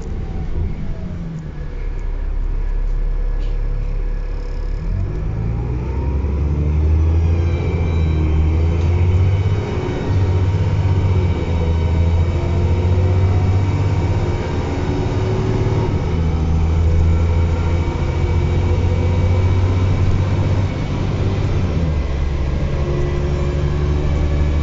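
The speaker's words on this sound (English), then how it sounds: "Listen to the engine on this." Stagecoach East Midlands Scunthorpe bus on service 1 drones along from inside with a steady low engine rumble and gear-change shifts, continuous and loud for about 25 seconds, with no talking.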